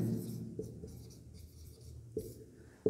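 Chalk or marker writing on a board during a polity lesson, a continuous scratchy stroke sound with a few taps and pauses, close and steady with no talk over it.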